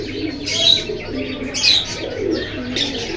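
Pigeons at Jinjira pigeon market give soft repeated throaty coos and burbles close by, with brief chirps and a hint of wing flutter.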